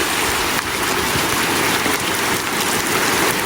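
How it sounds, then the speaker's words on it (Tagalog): Heavy rain pours steadily, a dense, loud hiss of drops hammering a surface for several seconds with no talking. "Bigla pa pong lumakas ang ulan."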